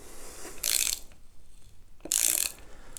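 A ratchet driving an EZ-LOK M6 threaded insert into soft wood, two short bursts of rapid close clicking separated by a quiet pause.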